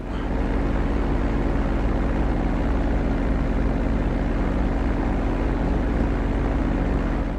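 Aircraft taxiing on a runway in GTA V, a steady, continuous engine drone and rumble held at an even level throughout, with no talking.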